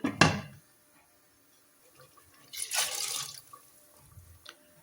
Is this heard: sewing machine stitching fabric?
no